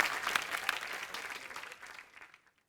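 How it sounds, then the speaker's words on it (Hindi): A studio audience at a comedy talk show breaking into applause, a dense burst of clapping that fades out over a couple of seconds. "जोरदार ताली हो जाए"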